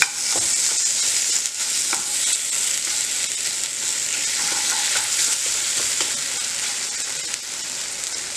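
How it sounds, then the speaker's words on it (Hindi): Khoya roasts in desi ghee over a low gas flame, giving a dense, even sizzle with faint occasional scrapes of a stirring spoon. "ये खोया हम डाल देंगे इसमें और इसमें डालेंगे हम तकरीबन आधा चम्मच देसी घी और हल्के गैस पे इसको भून लेंगे"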